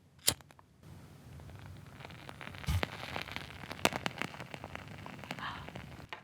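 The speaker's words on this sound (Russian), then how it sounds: "это особенная свечка, потому что она с деревянным фитилечком. А это значит, что она издает очень красивый звук камина." A candle with a wooden wick burns with soft, sparse crackles and pops like a small fireplace, the snaps scattered irregularly over a faint hiss and heard up close in a quiet room.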